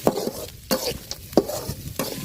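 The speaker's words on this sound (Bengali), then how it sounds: "পেঁয়াজটা লাল লাল করে ভাজা নিচ্ছি।" Chopped onions frying in plenty of oil with cardamom, cinnamon and bay leaves in a pot, close sizzling broken by a few sharp stirring scrapes, no voices.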